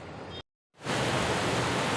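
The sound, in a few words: heavy rain falling outside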